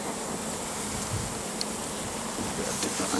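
Honey bees swarm around an open hive on a bee farm, a steady close buzzing drone with a few individual bees whizzing past, continuous and moderately loud with no talking.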